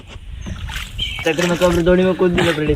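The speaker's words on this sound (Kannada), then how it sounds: "ದೋಣಿ ಮೇಲೆ ಹೋಗ್ತಾ ಇದ್ದೇವೆ ಕೂಡ್ಲಕ್ಕೆ" Water sloshing and splashing against a small village rowboat crossing a river, followed by a person talking loudly over the gentle lapping.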